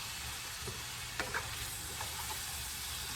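Herby cabbage with potatoes cooks in its own juices over low-to-medium heat, giving a faint, steady sizzle with a couple of small clicks from the pan, quiet and without talk.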